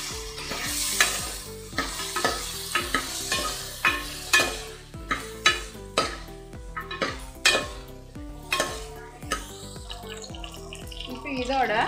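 Cut eggplant sizzles in a pan with onion and garlic while a spoon stirs it in regular scraping strokes, close and clear, the clatter repeating about once a second over the steady frying.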